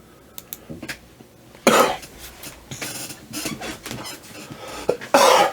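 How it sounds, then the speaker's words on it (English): A man coughs several times, first in short isolated bursts and then in harsher, louder fits, close to the microphone with no talking over it. "Apologies for the cough"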